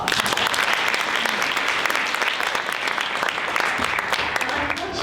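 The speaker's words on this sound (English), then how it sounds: "let's give Erin a round of applause" A crowd applauds at a Girls on the Run gathering, continuous loud clapping with a few cheers mixed in, sustained throughout.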